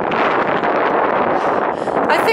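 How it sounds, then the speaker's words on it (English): Gusty wind buffets the microphone on a countryside hike near a copse and church, a steady loud rushing roar across the whole stretch with brief shifts in intensity. "the weather being windy and a bit unsettled"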